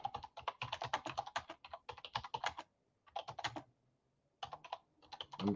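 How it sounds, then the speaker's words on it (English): Rapid clattering of fingers typing on a computer keyboard, close and crisp, in bursts of quick keystrokes separated by short pauses, with no talking. "I'm typing this in the back chat."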